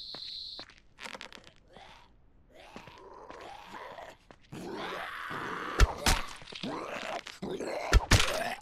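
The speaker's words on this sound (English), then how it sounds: "There's always a lot of zombies here" Zombies in the video game No One Survived groan and moan at varying distances, mixed with heavy thunks, hits and footsteps, growing louder and busier toward the end.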